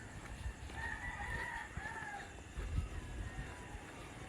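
A rooster crows at sunrise near the port on Limasawa Island in the Philippines, with a drawn-out call that rises and falls, heard at a distance over low rumbling background noise.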